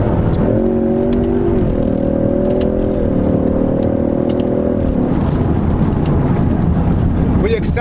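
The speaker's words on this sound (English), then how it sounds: "when you're going along, you're accelerating, downshift a couple gears here." A 2018 Ford Mustang EcoBoost engine hums with shifting pitch as it accelerates and downshifts, heard from inside the car beneath continuous talking.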